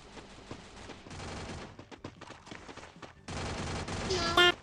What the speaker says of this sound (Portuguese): Você não tá atirando, eu tô vendo você atirando aqui.